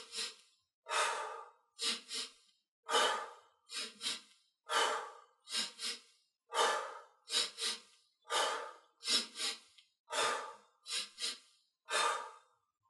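A person doing a slow breathing exercise meant to raise blood oxygen, about a dozen distinct breaths in and out in an even rhythm, close and clear with quiet pauses between them.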